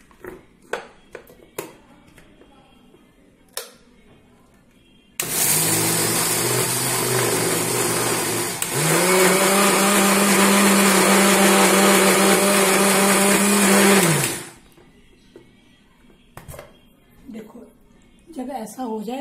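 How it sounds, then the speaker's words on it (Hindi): A mixer grinder grinding semolina with sugar whirs loudly for about nine seconds, changing pitch partway through as it grinds, with quieter clatter and handling sounds before and after. "मैं इसको करूंगी ग्राइंड सूजी इसमें मिक्सी में"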